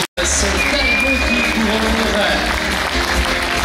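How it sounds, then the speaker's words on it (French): Audience applause welcoming a young cycling rider, loud continuous clapping right after a brief gap, with a voice speaking over the crowd throughout. "Eh bien tout simplement des applaudissements, on lui souhaite la bienvenue."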